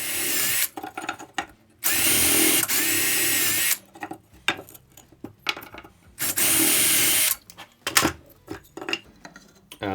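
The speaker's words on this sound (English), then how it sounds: "I need to drill a 6mm hole to run through there." Loud bursts of a power drill spinning up and boring a 6mm hole, three long runs separated by short pauses and small clattering handling noises.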